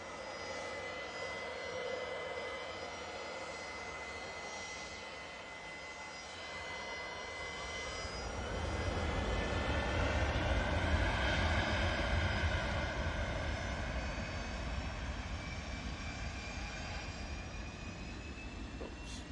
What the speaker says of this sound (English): Airlines A380 is taxiing over.